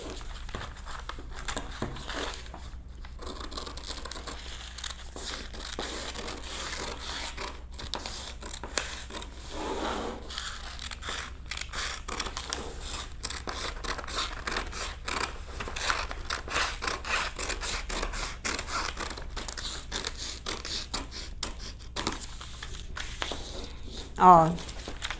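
Scissors cut through a dress sleeve pattern with close, rustling snips and paper-like crinkling that run steadily, while someone talks over the work.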